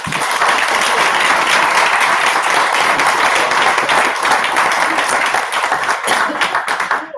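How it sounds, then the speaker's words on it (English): Audience applause closing a live-streamed event on the challenges facing young people; loud, dense, sustained clapping from many people, with a few sharper claps near the end as it tapers off. "A round of applause for our wonderful"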